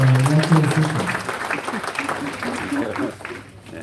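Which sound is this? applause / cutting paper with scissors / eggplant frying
applause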